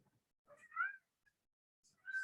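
A cat meows twice, first a drawn-out complaining call then a shorter one after a pause, close by and fairly quiet with silence around it.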